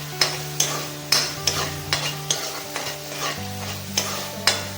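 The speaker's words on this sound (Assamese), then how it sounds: "চব একেলগে এইখিনি গ্ৰাইণ্ড কৰি লৈ তাৰপৰা এতিয়া মই এইখিনি ভাজিছোঁ।" A ground paste of ginger, garlic, green chilli and onion fries in a pan for egg curry, with steady sizzling broken by sharp, regular scrapes of a spoon stirring it, close up and without speech.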